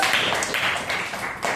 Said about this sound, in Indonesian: tepuk dulu sama Mbak Nazwa